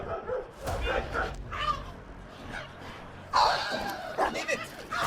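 Dogs bark in short excited bursts amid shouting people, the barks mixed under and between loud urgent voices, close and chaotic.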